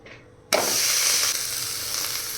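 Thalipeeth dropped onto an oiled tava sets off a sudden loud sizzle in hot oil that holds steady, a dense hiss of frying batter, close up and alone.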